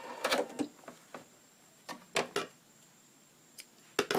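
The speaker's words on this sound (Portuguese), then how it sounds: "Tô terminando o meu retrocesso e corto a minha linha." A sewing machine backstitching the end of a seam on a cloth dish towel: a few short, close mechanical bursts of stitching separated by quiet pauses.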